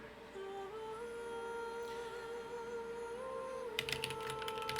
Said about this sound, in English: Oh boy, this is going to be a lot of typing.